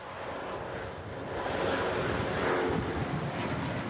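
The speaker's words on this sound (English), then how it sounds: "they're hindering the 2 planes which can't drop their water and keep whirling in the sky" Canadair firefighting water bomber planes circling over a forest fire, a broad distant engine drone that swells slightly louder, mixed with wind rumble and no speech.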